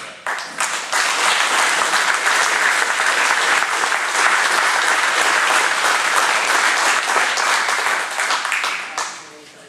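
Sustained audience applause fills a hall at an auto racing hall of fame induction and award ceremony, loud and steady for several seconds before tapering off at the end.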